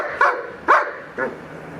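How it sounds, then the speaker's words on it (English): A trained dog barks three times on a speak command, giving short, sharp, evenly spaced barks that are close and clear in a quiet room. "at least now he is in front and he's barking"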